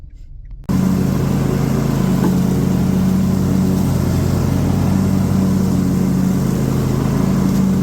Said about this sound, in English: this thing is averaging 20 miles per gallon with a clogged cat and sputtering and puttering like a 1923 Model T